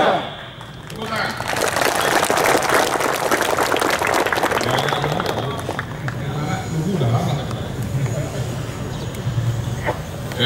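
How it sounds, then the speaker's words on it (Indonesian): Audience applause at a regional police and military command gathering in Bima, a broad sustained wash of clapping lasting most of the clip, loud and dense, easing slightly toward the end with murmurs and rustle underneath. "Tepuk tangan."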